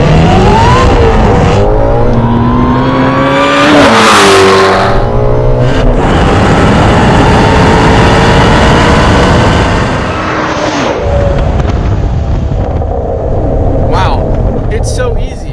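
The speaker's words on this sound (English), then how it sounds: "I want to show you guys what kind of sound this thing makes, how fast it is, how easy it is to drive," An HPE850 Shelby GT350 Mustang roars loudly around a race track, its engine revving hard and climbing through the gears with a sustained, close-up exhaust howl and brief dips between shifts.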